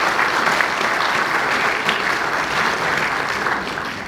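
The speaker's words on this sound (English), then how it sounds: "Let's give these good folks a nice round of applause." Concert audience applause at a Hemet Concert Association season opener, a loud, continuous round of clapping from a full hall that stays steady and tapers slightly at the end.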